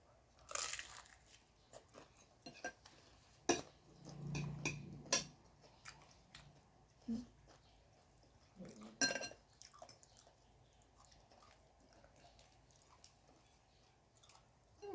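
Someone bites into a cold halal chicken samosa with loud crunchy snaps, followed by softer wet chewing and a few clinks of cutlery, close up with no talking.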